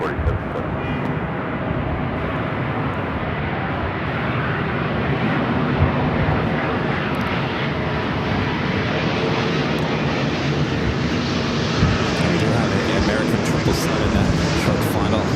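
Airliner taking off from runway 24 left at LAX, a loud continuous roar of jet engines that stays strong and steady throughout, with some wind noise on the microphone.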